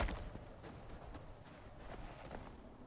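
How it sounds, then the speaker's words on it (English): Horse hooves clip-clop at a walk in the survival video game Icarus, a steady soft rhythm of repeated hoofbeats, fairly faint, with no talk over them. "let's get our horse inside"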